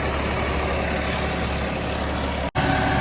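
A tractor pulls a rotavator deep through farm soil, its engine giving a steady, loud, heavy drone with a brief cut-out near the end, then carrying straight on with no voices.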